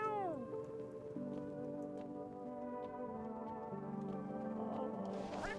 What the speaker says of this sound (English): What you want, cat?